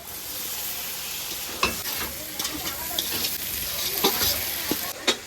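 Meat, raw potato and tomato frying in a pan, a steady broadband sizzle with a few sharp clinks of a spatula against the pan, close and fairly loud, no voices.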